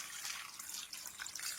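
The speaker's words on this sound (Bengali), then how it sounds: "নিয়েছি আমগুলোকে ভালো করে ধুয়ে নেব।" Ripe mangoes being washed under running tap water, a soft, continuous splash and trickle heard close and fairly quiet.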